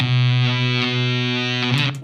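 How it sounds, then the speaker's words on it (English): Electric guitar played through a Mythos Mjolnir mid-boost drive pedal rings out as one gritty, sustained distorted chord, close and loud, with a few pick or string noises near the end. "I'm going to start with the Mythos Mjolnir, which is that mid boosty drive"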